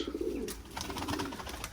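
Pigeons coo in soft, repeated throaty calls nearby on a sunny day after cold weather, with light flutters and faint background noise.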